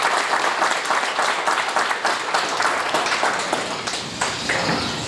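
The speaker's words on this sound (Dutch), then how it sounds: "alvast een groot applaus voor de cursisten" Audience applause for course graduates receiving certificates at a ceremony, a steady dense wash of clapping that holds at full strength for the whole stretch.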